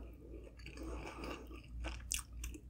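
Close chewing of Totino's pepperoni pizza rolls, soft crunchy bites and wet mastication filling the clip with a few sharper crunches near the end.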